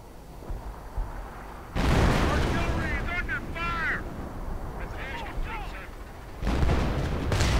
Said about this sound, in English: we haven't seen that 25-pounder gun fire a lot, it seems like.